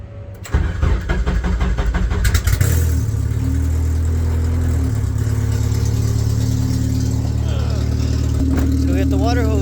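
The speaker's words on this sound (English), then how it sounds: "So let's turn the car on." A budget K-swapped Honda Civic cranks and fires up, then settles into a steady, loud idle close by, with some clattering and hissing over the engine drone.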